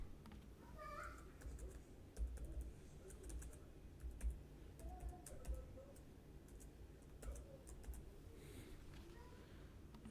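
Login details are typed on a computer keyboard in quick, irregular bursts of clicking keys, fairly close and quiet, with pauses between clusters of taps.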